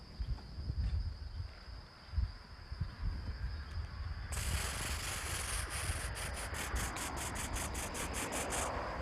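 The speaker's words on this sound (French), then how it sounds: "Écoutez les cigales." Cicadas sing outdoors, starting as a faint insect whir over low rustling. Midway a louder, harsh buzzing chorus swells in and breaks into rapid pulsing bursts.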